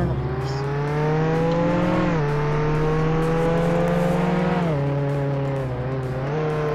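Simulated car engines in the Roblox game Jailbreak rev up and shift, rising in pitch between gear changes, with tyre noise layered over a loud, continuous motor tone.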